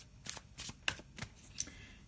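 Tarot cards being given a vigorous shuffle by hand, a run of soft riffling bursts and crisp slaps repeating close up, with no talking.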